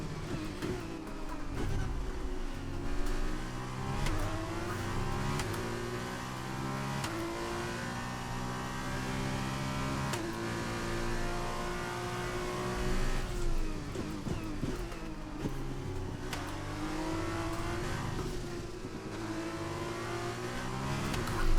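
Formula 2 race cars in the LCR league on a racing simulator at Imola, during the feature race: a continuous high engine wail that climbs and drops through repeated gear shifts, loud and close, with no talking.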